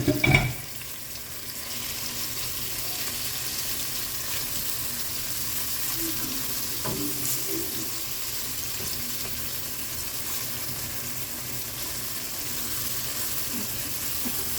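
Onion, sweet pepper, thyme, tomato and scallion sauté in a pan for Jamaican steamed cabbage, a soft continuous sizzle with a few light stirring scrapes and clinks, fairly faint and steady.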